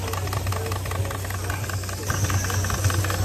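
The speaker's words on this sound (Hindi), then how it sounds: "भाप का इंजन का" Steam engine of a fire department horse-drawn carriage in the USA, a steady mechanical chugging and hissing with a low rumble and faint rattles, continuous and fairly close throughout.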